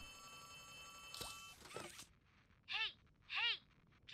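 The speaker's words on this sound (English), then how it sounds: "Who's giving me a phone call?" A telephone rings twice inside the horror game Poppy Playtime Chapter 3, each ring a clear, moderately loud burst after some earlier clatter and noise, with no voice over it.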